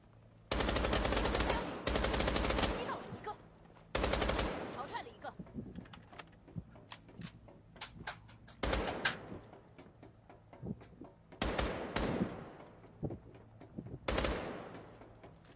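Bursts of rapid automatic submachine gun fire in a video game, several separate volleys with short pauses between, loud and close.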